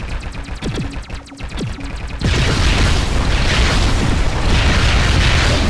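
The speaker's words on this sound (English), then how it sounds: "That was a heck of an explosion." A loud, sustained booming blast suddenly erupts and rumbles on in the shooter game Sky Force Anniversary, following a stretch of rapid mechanical clatter.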